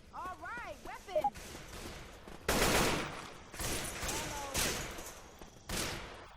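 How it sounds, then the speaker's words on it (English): Gunfire in the zombie video game Left 4 Dead 2 comes in loud bursts and a sustained barrage, mixed with game effects and players talking. "stop shooting me"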